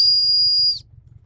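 A dog training whistle blown in one steady, very high, piercing tone lasting most of a second, then cut off, leaving faint low rumble behind.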